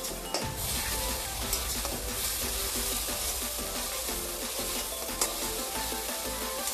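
Soy sauce poured over softened onions frying in a pan for dry chilli paneer, then stirred, a dense continuous sizzle close by with spatula scrapes and a couple of pan knocks, no talking.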